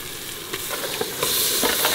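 Mutton pieces sizzle and fry in a thick masala gravy while being stirred, a steady loud crackling hiss with scraping pulses, no voices.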